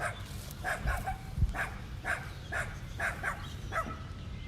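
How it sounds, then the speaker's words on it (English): A dog barks repeatedly near tortoises, sharp yips coming in a steady, fairly quick rhythm at moderate distance over a low background rumble. "Sylvia, that dog does want to play with the tortoises."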